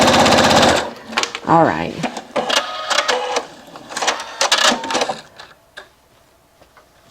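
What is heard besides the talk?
sewing machine sewing gathering stitches in fabric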